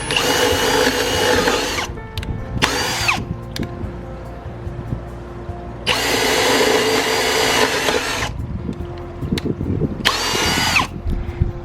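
A power drill bores extra holes in a lined window box planter, with several close, loud whirring bursts of a few seconds each and quieter handling noises between them.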